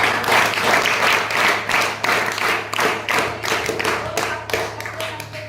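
An audience at a secondary school function in Devgad, Sindhudurg breaks into applause, a dense burst of many hands clapping that carries on steadily for several seconds, with a low hum running underneath.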